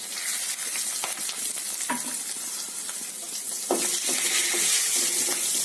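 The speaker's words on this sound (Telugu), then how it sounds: "బాగా ఆవాలు చుట్టుపక్కలాడుతుంది, తాలింపు వేగింది" Mustard seeds splutter and sizzle in hot oil for a tempering, a steady loud frying hiss broken by sharp pops and crackles, close and alone.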